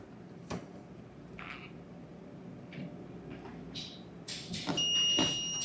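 Warning beeps sound in a 2021 Genesis GV80 with harnesses connected at the ABS unit; a few short, high-pitched tones chirp at irregular intervals, growing more frequent and sustained toward the end over faint shop background noise.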